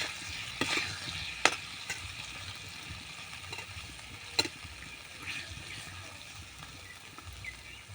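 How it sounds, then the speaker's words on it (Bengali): Potatoes fry quietly in a pot, a low sizzle under occasional stirring and sharp utensil knocks against the rim, close and fairly faint with no talking. "আলুটা নেড়ে নিচ্ছি।"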